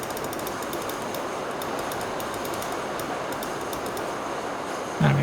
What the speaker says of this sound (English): Oh, it's a tram thing or whatever?